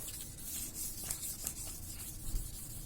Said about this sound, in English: Been grinding, been sanding for a few hours now.